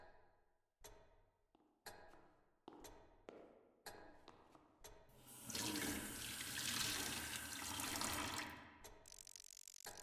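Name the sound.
running tap water in video game Deep Sleep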